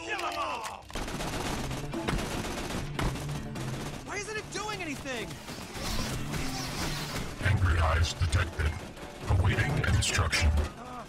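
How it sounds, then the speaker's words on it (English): Rapid bursts of gunfire in the video game Tales from the Borderlands, with dense crackling shots and mechanical clatter running almost nonstop and voices speaking over the din. "Please stop shooting me."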